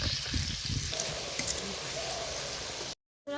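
Gram flour boondi batter fries in hot oil with a steady, close crackling sizzle that runs continuously, then cuts off briefly near the end.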